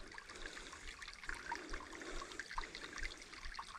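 A small creek in Kentucky in January flows steadily with a constant bubbling trickle of water, fairly close, with no voices.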